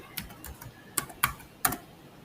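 Typing on a computer keyboard: a few close, crisp key clicks, irregularly spaced with short pauses, with three sharper taps toward the end.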